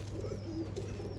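Pigeons coo softly and repeatedly over a steady low background hum, close by and gentle.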